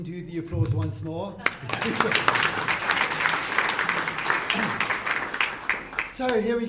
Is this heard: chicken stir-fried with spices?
no